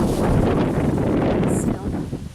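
On a September afternoon outdoors, wind buffets the microphone in a continuous rough, rumbling rush, loud and close throughout the short stretch.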